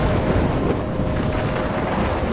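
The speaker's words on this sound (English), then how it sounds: "I'm trapped in a storm?" Stormy wind roars continuously with a low rumbling, thunder-like undertone in the Life is Strange video game, a dense, steady wash of gusting noise with no voices.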